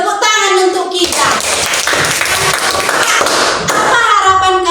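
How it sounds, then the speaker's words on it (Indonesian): A school class bursts into applause, a dense, fast patter of many hands clapping together for a few seconds between a teacher's spoken lines. "Tepuk tangan untuk kita."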